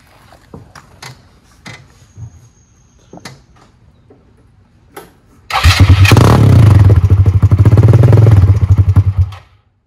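Polaris RZR 170 side-by-side with a modified sprocket: a few clicks and clatters, then the small engine starts and runs loud and steady, with a rapid pulsing idle, for about four seconds before shutting off.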